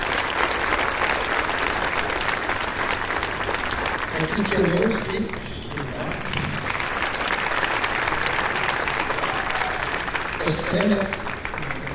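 An audience at a talk on Carlo Acutis applauds steadily and loudly for the whole stretch, while a speaker's voice comes through over the clapping twice, briefly naming people.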